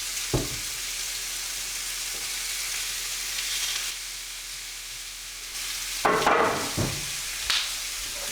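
Food sizzles steadily in a hot pan, with a few sharp clanks and stirring scrapes breaking through the frying hiss.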